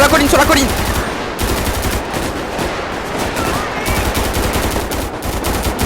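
Sustained bursts of automatic gunfire in a GTA V police mod firefight, rapid loud volleys cracking almost without pause across the whole stretch, with only brief gaps between strings of shots.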